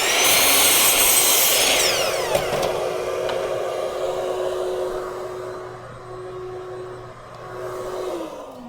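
A miter saw cuts an angled section off a wooden piece: a loud whine at the start as the blade bites through, then a long winding-down hum as the blade coasts to a stop.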